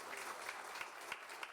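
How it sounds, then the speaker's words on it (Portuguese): Brief, faint applause from a dinner-debate audience greeting the speaker Ricardo Brito, soft scattered clapping heard from a distance. "Uma salva de palmas para o Ricardo."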